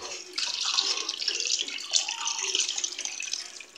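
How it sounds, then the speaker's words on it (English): Tap water runs steadily and close by while beef tripe (matumbo) is washed under it, a continuous splashing gush with no voices. "First step is to wash your matumbo."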